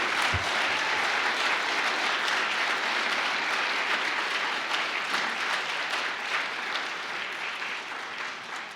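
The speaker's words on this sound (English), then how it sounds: "please join me in giving yet another round of applause to Alhassan." Sustained applause from a large audience at a Martin Luther King Jr. remembrance ceremony fills the space, dense and even, gradually tapering toward the end.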